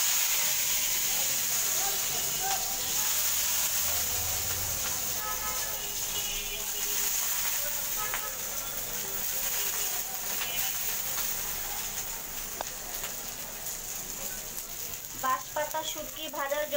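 Onion and garlic sizzle in hot oil with a steady hiss, joined by occasional stirring scrapes and a few clinks near the end.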